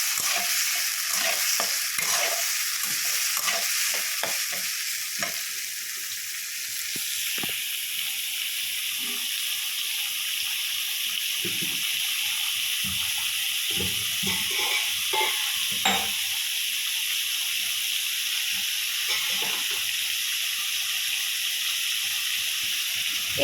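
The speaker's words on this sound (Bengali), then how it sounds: "এবার আমরা পেঁপেটাকে ভালো করে নাড়িয়ে নেব" Papaya pieces are stirred around a hot pan, and repeated scraping strokes rise over a constant sizzling hiss for a long stretch, with no talking.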